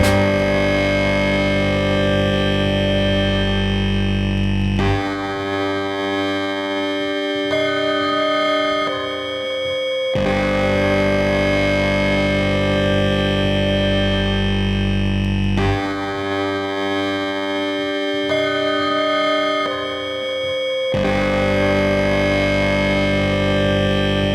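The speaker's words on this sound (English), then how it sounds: "Here's two, the bass. Gritty bass." A loud, gritty distorted bass riff loops steadily with a repeating pattern, heavy saturation and buzz throughout, playing alone with no voices.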